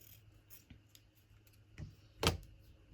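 Scissors snip through folded paper for a small handmade boho notebook, a few faint quiet cuts followed by one louder crisp snip near the end, with no talking.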